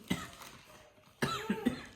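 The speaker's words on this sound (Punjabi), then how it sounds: "2 ਦਿਨ ਹੋ ਗਏ ਖਾਂਸੀ ਨਹੀਂ ਇਹਨਾਂ ਦੀ ਹਟਦੀ" Two short bursts of coughing from a two-day cold cough, the second a quick series of hacking coughs, close and fairly soft with a quiet pause between.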